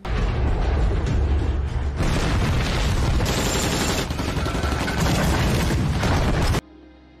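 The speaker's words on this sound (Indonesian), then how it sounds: "Mereka tembakan ratusan mortir hanya untuk membunuh satu sniper Cina yang tersisa." Loud, dense barrage of mortar explosions and gunfire from a war film battle scene as American troops fire hundreds of rounds, booming blasts overlapping continuously for several seconds before cutting off abruptly.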